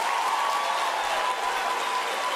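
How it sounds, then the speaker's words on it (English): A graduation ceremony audience applauds the graduates, a steady, dense wash of clapping from a large crowd that holds evenly throughout, with no voices standing out. "Can we please give them a round of applause?"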